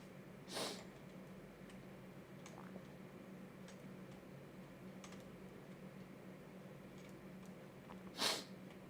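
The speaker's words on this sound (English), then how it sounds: "Sorry about the sniffs." Two sharp, close nasal sniffs from allergies, one near the start and one near the end, separated by faint, sparse clicks of computer keyboard typing in a quiet room.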